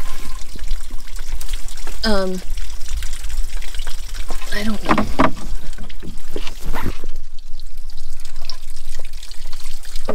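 Water trickling steadily near a backcountry campsite on the Ottawa River, coming from under a tree, a continuous close dribble heard beneath people talking.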